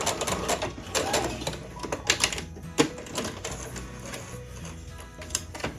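Domestic sewing machine back-stitching the edge of a fabric tote bag, a steady mechanical stitching whir with small ticking bursts and a few louder clicks, close and fairly continuous.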